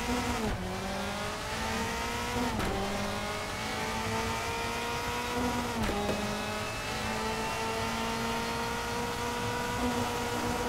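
A 2003 DTM race car with a sequential gearbox howls around Bathurst in RaceRoom Racing Experience, its engine droning continuously and dipping briefly at each of several quick upshifts.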